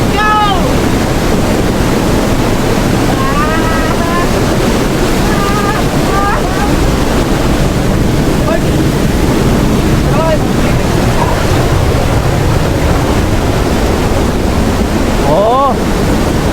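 Steady roar of rushing water and gusting breeze at Claredita Falls, a broad continuous wash buffeting the microphone, with faint voices and brief chirpy calls scattered through.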